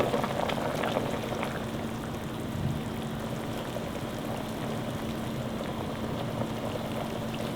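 Braised chicken with potatoes, onion and carrot simmers in a pot as soy sauce is poured in, giving a steady soft bubbling and trickling wash, fairly quiet and without speech.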